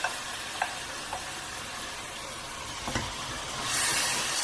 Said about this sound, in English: it's time now to add our chana dal or our split peas, which has been soaking for about half an hour